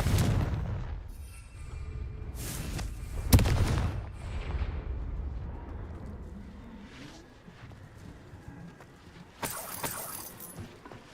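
Confringo fire spells in the Hogwarts Legacy video game burst in heavy booming explosions with crackling, rumbling tails, loud and close, followed by quieter game effects and a bright shattering burst near the end.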